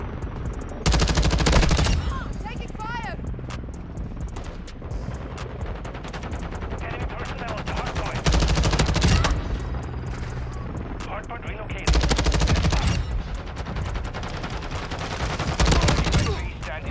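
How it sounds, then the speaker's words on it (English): Automatic gunfire in Call of Duty Modern Warfare 2 breaks out in several loud, dense bursts separated by quieter stretches, with a voice talking over the game audio. "there was, in fact, a guy shooting behind me"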